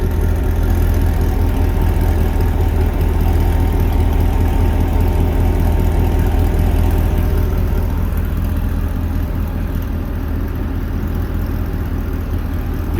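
A 2010 Corvette Grand Sport with an LS3 V8 on E85, larger injectors, stock cam, long tube headers, X pipe, gutted airbox and Corsa exhaust without catalytic converters idles with a loud, steady, deep rumble close by.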